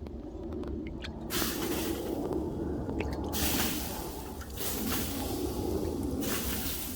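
Water poured onto hot coals under a cooking fire for South African roosterkoek hisses in a loud, continuous steaming rush with bubbling, surging and easing over several seconds.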